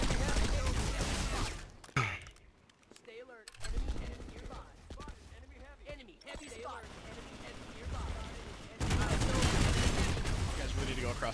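Rapid bursts of gunfire from players hip-firing in a multiplayer shooter video game, dense and loud in stretches with quieter gaps, while people talk over it.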